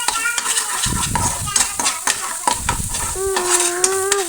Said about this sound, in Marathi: मी थोडं फिक्कं सूप घेऊन इथे मिक्स केलेलं आहे